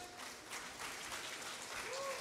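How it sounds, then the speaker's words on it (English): Audience applause at a Hindu wedding event, a steady wash of many hands clapping that stays dense and even throughout, with faint background voices mixed in. "So I'd like to ask everyone in the audience to join in our loud claps to show our participants for their hard work and talent."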